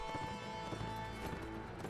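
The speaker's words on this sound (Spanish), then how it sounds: "me jode cuando vienen los caballitos en ese plan" Horses gallop in the medieval combat game Mount & Blade: Warband, with quick, rhythmic hoofbeats over game music and ambience, moderately loud and continuous for a couple of seconds.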